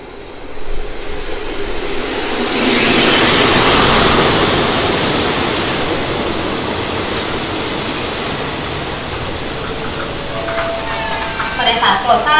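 An MTU-engined locomotive passes close through Salaya station in Thailand, with a loud sustained rolling rumble, wheel noise and squeals that swell then ease over several seconds, and a voice faint underneath.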